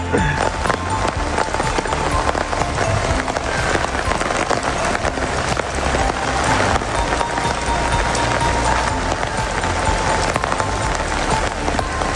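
Steady, dense hiss of heavy rain pounding a surface while the sun is out, loud and continuous with no pauses, a faint voice briefly audible in the wash.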